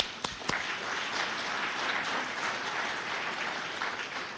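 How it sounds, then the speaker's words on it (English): Steady applause from an audience at a city State of the City address, a dense wash of clapping that holds at an even level throughout, with a couple of sharper claps near the start. "Let's give that a round of applause."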